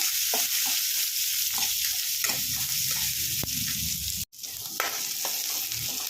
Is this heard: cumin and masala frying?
yes